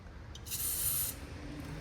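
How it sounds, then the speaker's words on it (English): A single hissing aerosol spray burst of lubricant onto a BMW V10 engine part, lasting about half a second, close and fairly loud, over a low background hum. "we're gonna spray right here."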